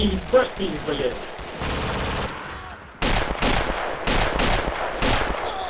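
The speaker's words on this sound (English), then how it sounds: "MG fire from the building." Machine gun fire in the WWII shooter Red Orchestra, rapid bursts of automatic shots with echoing cracks, loud and close, mixed with a steady roar and other battle noise.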